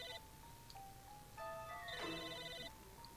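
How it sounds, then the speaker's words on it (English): An electronic telephone ringtone in the video game Psychonauts chimes in short bursts of bright tones, playing over a quiet background. "there is a phone ringing"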